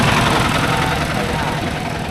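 A tractor engine idles close by with a steady, loud mid-pitched chugging rumble and vibration, while people talk over it.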